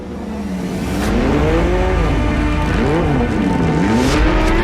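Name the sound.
Porsche 911 GT3 Cup six-cylinder boxer engine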